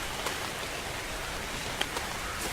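Steady rainfall in the video game ARK Survival Evolved, a continuous soft hiss of drops on surfaces with a few faint clicks, holding an even level throughout with no voices.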